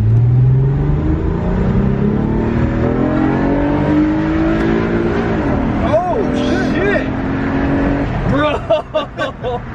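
An Acura TL engine revs hard while accelerating, rising through the gears into VTEC with a climbing, loud roar close by, then dropping into a few quick revving pulses at the end.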